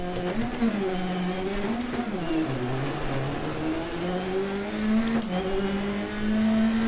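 A Dodge Neon rally car in a racing video game runs with its hood torn off, its engine droning and whining as the revs rise and dip, with a brief shift partway through, loud and steady.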